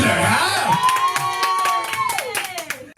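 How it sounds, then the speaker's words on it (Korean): An audience at a dance battle claps and cheers loudly throughout, with dense rapid hand claps and whoops, while a sustained tone glides downward over the applause. "너무 잘 찢었어요. 참가 번호 1번 캡틴 지니지에게 박수 한번"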